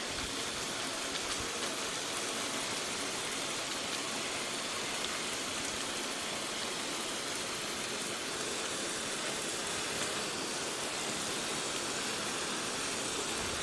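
A steady hiss of water spraying onto vertical-garden lettuce runs without a break, dense and even from start to end, with no voices.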